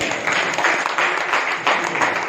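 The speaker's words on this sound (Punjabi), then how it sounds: "ਇੱਕ ਜ਼ੋਰਦਾਰ ਤਾੜੀ।" A crowd at a poetry gathering claps steadily for a couple of seconds, a dense, continuous round of applause.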